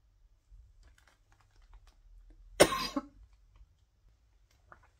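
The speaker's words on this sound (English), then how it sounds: "I totally went to pause before I coughed and missed." A single cough close to the microphone in a quiet room, one sharp broadband burst with a short tail, surrounded by faint tapping and light handling noise.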